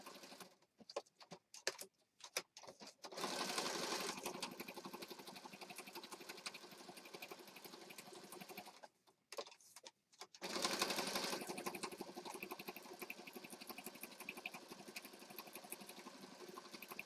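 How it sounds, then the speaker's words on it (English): Sewing machine stitching around the edge of a junk journal page, a fast continuous mechanical whirr running in long bursts, broken by short stops and stuttering starts. "So we just stitched all the way around."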